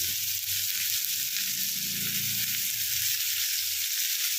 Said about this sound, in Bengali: এটাই এবার নরম করে ভেজে নেব।